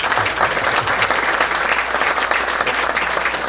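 A conference audience in Lima applauds engineer Néstor Collado, a full, steady burst of many hands clapping throughout with no voices over it.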